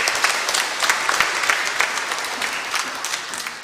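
Congregation applauding during a Sunday Mass, a steady, full wash of many hands clapping at moderate distance that continues evenly throughout.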